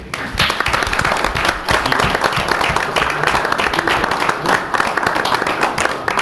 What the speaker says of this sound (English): please give these folks a round of applause.